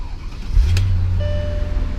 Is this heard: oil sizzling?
no